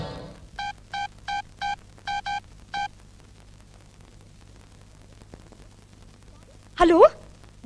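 Telephone keypad tones beep seven times in quick succession over a low electrical hum, followed by a brief louder burst of sound near the end.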